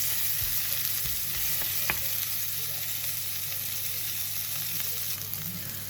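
Onions fry in a pan, giving a constant dense close sizzle with occasional faint clicks and stirring touches and no voices.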